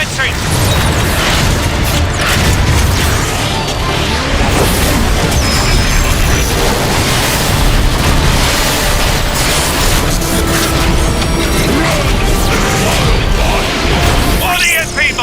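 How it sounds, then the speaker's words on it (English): Dense barrage of booming explosions from an airstrike in the video game Transformers: Fall of Cybertron, loud and continuous with mechanical clatter and bursts layered throughout, under faint voice. "Airstrike commencing!"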